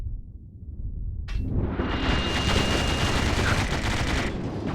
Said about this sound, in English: I like my heavy machine gun because I like to just sit down and just kick butt and unload.